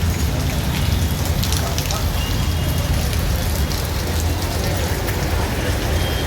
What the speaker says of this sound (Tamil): வர வழியில் மழையை மட்டும் பாருங்களேன்